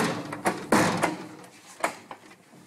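A few sharp knocks land on the door of a house, irregularly spaced and moderately loud, with faint room noise between them.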